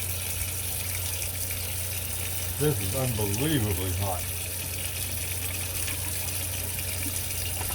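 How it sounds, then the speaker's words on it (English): Cold water runs from a kitchen tap in a steady, even rush that continues throughout, with a voice speaking briefly over it. "I'm going to run cold water here."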